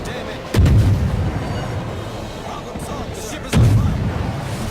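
Naval gunfire in World of Warships, two heavy booming salvos a few seconds apart over steady ambient battle rumble, with a voice talking in the background.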